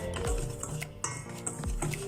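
Breading ingredients for fried chicken being stirred in a bowl: a few clinks and scrapes of a utensil against the bowl, close and fairly quiet.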